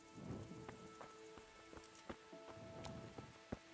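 Soft patter of rain on a surface in the video game Kingdom Come: Deliverance, faint and steady, with scattered sharper drips and light tonal game sounds in the background.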